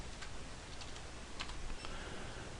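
Soft, scattered keystrokes from a computer keyboard tap quietly at close range over a faint background hiss, a handful of light clicks over a couple of seconds.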